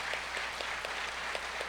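A church congregation applauds during a service, a steady, even patter of many hands clapping with no talk over it.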